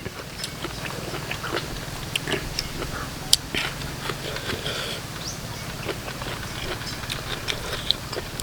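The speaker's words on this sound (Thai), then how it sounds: "ฟังเสียงอมกุบกุบอยู่" Close, wet crunching and chewing of raw shrimp and squid with irregular crisp bites, steady throughout, with faint background noise.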